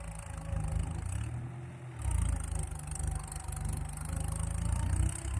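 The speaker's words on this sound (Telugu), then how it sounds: "ఇగో ఈ విధంగా నడుస్తుంది మా మోటారు." Three electric water pump motors run on a farm field, making a steady, loud low hum and drone that carries on without a break and swells slightly partway through, with no voices over it.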